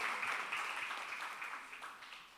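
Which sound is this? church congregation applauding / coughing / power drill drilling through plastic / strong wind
church congregation applauding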